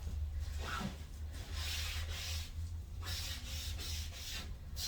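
Rhythmic rubbing strokes as excess paint is wiped off metal furniture: close, soft scratchy swishes repeating about twice a second over a low steady hum.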